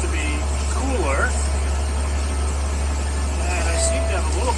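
A Nissan Patrol engine with an exhaust leak runs steadily on the road, a constant low drone and rumble underneath, with a few faint higher sweeping tones passing over it.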